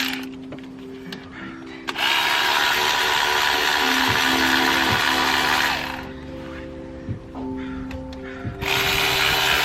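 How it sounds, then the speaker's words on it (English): A power tool removing bolts in a Mercedes CL600 engine bay whirs loudly in sustained bursts, with a pause in the middle and mechanical clicks and ratcheting between runs. "All I gotta do is get the power tool and get them out."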